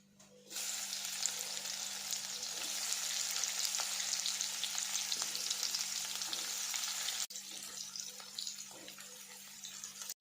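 Okra sizzles loudly in oil in a wide, shallow-bottomed kadhai, a dense continuous frying hiss that starts abruptly and carries on close and steady.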